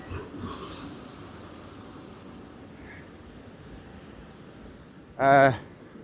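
A train near Blackpool gives off a low, steady rumble from some distance, then a brief, loud, tonal squeal rises sharply near the end before fading.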